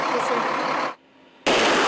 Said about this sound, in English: When the HIMARS fires, the rocket exhaust gives away its position.